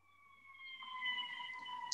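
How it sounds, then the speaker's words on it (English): A faint emergency siren wails in the distance, heard over an online trading class call, holding steady high tones for about two seconds over a quiet background. "Somebody has a siren in the background."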